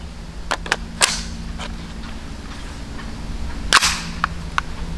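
A Smith & Wesson Response 9mm pistol fires 115 grain rounds outdoors, several sharp cracks spaced irregularly, with one especially loud shot near the end over a low steady hum.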